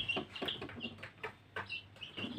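Backyard hens cluck softly and quite faintly, a loose string of short, repeated clucks with a low background hum.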